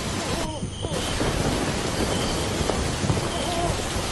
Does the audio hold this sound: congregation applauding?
no